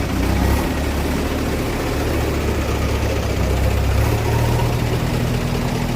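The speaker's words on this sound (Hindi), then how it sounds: "किस प्रकार से जेसीबी की मदद से ट्रैक्टरों को लगाकर ये काम किया जा रहा है" A JCB excavator and tractors work through a night-time city cleanup, giving a loud, steady low diesel rumble with continuous engine drone and no voices.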